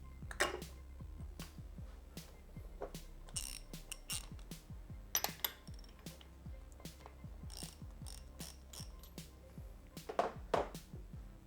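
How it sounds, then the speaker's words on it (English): A deep socket clicks and ratchets repeatedly while loosening the old spark plug on a Yamaha TW200 motorcycle, with sharp, close mechanical clacks and ticks spread steadily across the whole stretch. "use a deep socket to remove the old plug"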